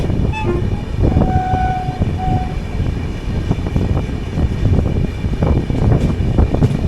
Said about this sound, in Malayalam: ഇത് ബാംഗ്ലൂർക്ക് വന്ന ബൃന്ദാവൻ എക്സ്പ്രസ് ആണ്.